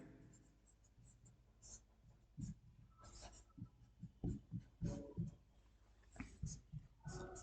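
Faint scratchy strokes of writing on a board, short irregular scrapes and taps in bursts over a quiet room background, with no clear talk.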